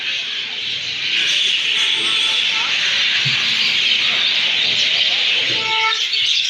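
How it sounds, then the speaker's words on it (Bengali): Crows and other birds call from the trees at Berhampore Court railway station, a dense steady chorus of chirps and caws over outdoor hiss and distant traffic, continuing throughout. "অনেক কাক বসে আছে, আওয়াজ শুনতে পাচ্ছেন পাখির ডাক"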